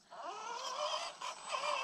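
A dog whimpers and whines inside a car, a close, thin, wavering cry in a few drawn-out pulses with a brief break near the end.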